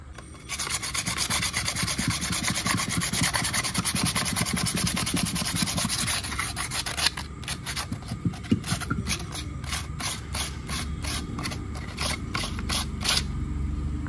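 Emery paper polishing the head surface of a Tata Vista TDI engine with a head gasket problem: continuous rapid back-and-forth rubbing and rasping, close and fairly loud, turning into slower distinct strokes toward the end.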